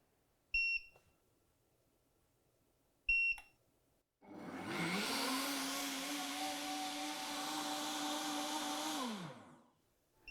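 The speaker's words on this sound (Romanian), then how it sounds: "Voi selecta acum funcția de smoothie și voi lăsa blenderul să-și facă treaba." A high-speed blender on its smoothie setting blends plant milk: two short beeps sound first, then the motor spins up to a loud, steady whirring roar for about five seconds before winding down.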